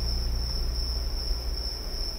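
Crickets chirping through an open window in the detective video game Scrutinized, a steady high-pitched trill that runs unbroken over a faint low hum.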